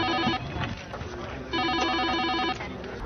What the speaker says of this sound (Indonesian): nggak sadar ada telepon masuk berkali-kali